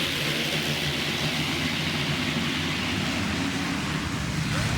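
450-class motocross bikes roar off the start gate together at Washougal, a dense, steady wall of engine noise at full revs that holds loud throughout.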